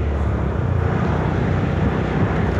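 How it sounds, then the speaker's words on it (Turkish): A Seha 250 scooter engine fitted with a carbon performance air filter runs steadily with a dense, even drone and no pauses, close and fairly loud throughout. "Birincisi motorun sesi azaldı."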